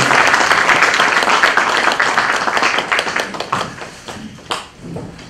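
A congregation applauds at the 35th graduation ceremony of the Korea Preaching School, where pastors receive diplomas. Loud, close clapping fills the start, then thins into scattered claps and fades out.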